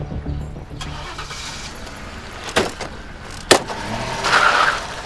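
A car engine cranks and catches after a clatter and a door-like thump, then settles into a running rumble, close by and alone without speech.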